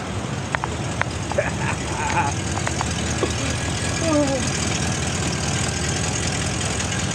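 A car engine idles steadily, a constant low rumble filling the whole stretch, with a few faint clicks and brief tones over it and people talking over the engine.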